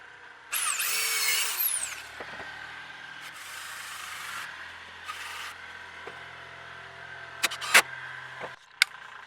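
A power drill drives screws into a DIY roof top tent base with a few whirring bursts of motor spin and short stops between them, and a couple of sharp knocks near the end.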